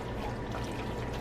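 Alfredo sauce pours in a steady, continuous stream over pasta, a close, thick liquid pour with no talking.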